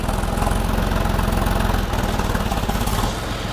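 A farm tractor engine runs at a steady, throbbing idle, close and fairly loud, with a rapid low pulsing rhythm throughout and no talking.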